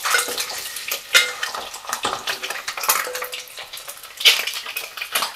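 Eggs sizzling in a pan of oil while being lightly fried for egg pulusu, a steady crackle with scattered clinks of utensil against the pan.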